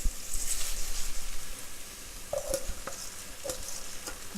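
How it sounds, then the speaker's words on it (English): Rice fries in a pot with salt meat and pigeon peas, giving a steady sizzle with scraping stirs and a few clinks of the utensil, close up with no talking. "now I'm going to add in the rice and fry it up a little bit"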